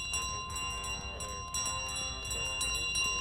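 A bell carried and dropped in Untitled Goose Game, with sustained ringing tones and a few clanking jolts, loud and close with no speech.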